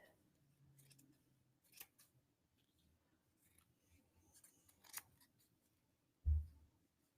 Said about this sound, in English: So I'm just going to lay my ear on there and I'll cut around it.